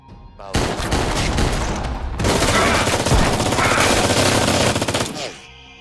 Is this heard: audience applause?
no